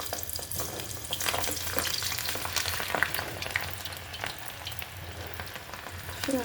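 Potato pakodi batter drops into hot oil in a home kitchen and sizzles and crackles steadily at moderate volume, with scattered pops and occasional light scrapes of a utensil, and no voices.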